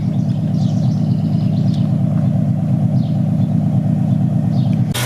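Ford Mustang 4.0 V6 idling normally, a steady low rumbling engine drone with an even, continuous exhaust burble heard close and loud throughout.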